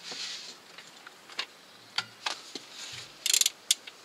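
Ratchet wrench turning a crankshaft during a timing belt replacement, giving a few sparse clicks, then a quick burst of close, sharp ratcheting clicks near the end, with quiet mechanical handling between.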